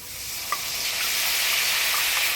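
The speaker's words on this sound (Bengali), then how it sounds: "ফোড়নের তেলে ভালোভাবে আলুটা নাড়াচাড়া করে নিলাম" Cut potatoes fry in hot spiced tempering oil while being stirred, a loud, close, steady sizzle with one small clink near the start.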